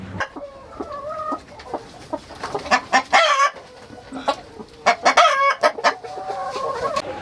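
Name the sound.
roosters and chickens clucking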